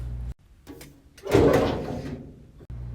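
A bottom drawer slides open with a soft scrape and rumble lasting about a second, preceded by faint knocks in an otherwise quiet room.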